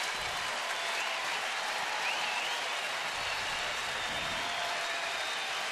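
A baseball stadium crowd rises and applauds before a full-count pitch, a steady distant wash of clapping and cheering with little change throughout.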